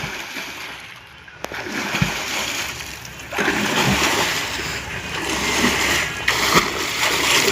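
Water splashing at Gavliwada waterfall, a broad rushing wash of falling water with bursts of splatter swelling louder partway through, with faint voices of people in the background.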